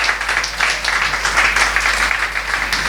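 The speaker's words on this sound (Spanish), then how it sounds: "Aplausos, hermanos." A church congregation applauds after a sermon, a steady blur of many hands clapping at moderate loudness with a low steady hum underneath throughout.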